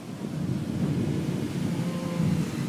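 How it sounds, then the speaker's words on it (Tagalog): Steady, low thunder rumbles on and on after a hard rain, one loud continuous roll with no talking. "Kumukulog."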